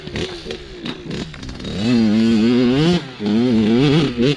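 A Kawasaki KX100 dirt bike engine revs loudly and close, its pitch climbing and wavering in long sustained pulls, dropping off briefly before surging again.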